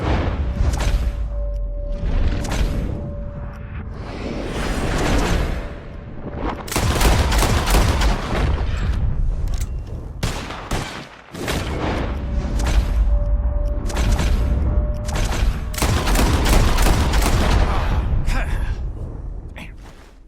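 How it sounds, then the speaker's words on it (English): Rapid gunfire crackles in a shooting contest in Red Dead Redemption 2, with dense volleys of shots through most of the stretch, a short lull near the middle, and voices underneath. "As soon as you see them, start shooting."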